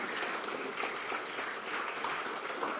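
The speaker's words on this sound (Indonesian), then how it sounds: "Ya, kita beri tepuk tangan." A political gathering's audience applauds at a distance, a soft, continuous wash of many hands clapping without any voice on top.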